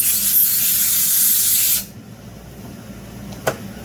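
Compressed air blasts across a freshly cleaned McCulloch 10-10 chainsaw carburetor, a loud close steady hiss that cuts off abruptly after about two seconds, followed by one brief short puff.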